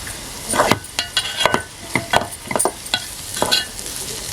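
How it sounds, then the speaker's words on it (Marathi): Spices, turmeric and a ground paste sautéing in a pan for a wild mushroom sabji cooked on a wood-fired stove, with brisk repeated stirring scrapes and clatter over a steady sizzle, close and clear. "आता हे सगळं परतून घेऊया"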